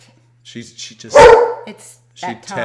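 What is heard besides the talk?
dog barking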